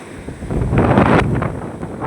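Wind and sea waves at a seashore make a broad rushing roar that swells toward the middle and eases off, with heavy wind buffeting on the microphone.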